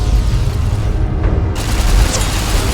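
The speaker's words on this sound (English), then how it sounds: "we happen upon a laser detonator, which is really just a souped-up laser pistol. It gently deconstructs the environment." Laser detonator, a souped-up laser pistol, fired in the Lonesome Road game, producing a loud, continuous roar of booming blasts that fills the whole stretch with heavy low rumble.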